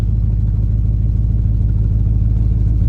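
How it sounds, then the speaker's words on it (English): The original engine of a 1971 AMC Matador runs after a cold start, a loud, close, steady low rumble with an even throbbing idle and no talking. "Man, this is a smooth running motor."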